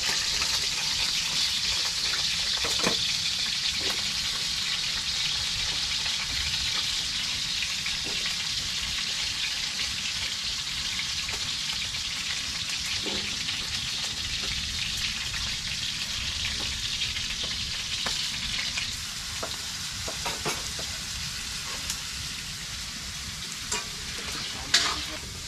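Food stir-fries with soy sauce in a pan, a loud, continuous crackling sizzle with the scrape and clatter of stirring throughout.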